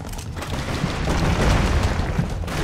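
Explosions in the Broforce video game, a dense burst of booms and crackling gunfire-like blasts that builds to a loud peak midway, with no talk.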